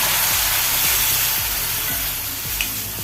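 Mango and ginger pickle with vinegar being stirred in a hot pan, a loud steady sizzle with scraping strokes of the spoon repeating every half second or so.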